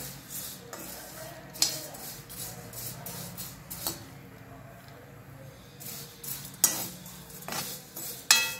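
Sago pearls being dry-roasted in a pan are stirred with a utensil, producing soft, quiet scraping and rustling with a few sharper metallic clinks scattered through the stretch.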